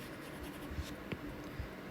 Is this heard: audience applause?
no